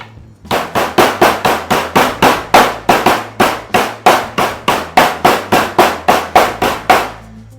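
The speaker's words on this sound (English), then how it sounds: "Let's pound up these nuts." Steady rhythmic pounding of nuts into pieces, about two loud close blows per second for roughly seven seconds, each a sharp crack with a brief ringing tail, with no voice heard.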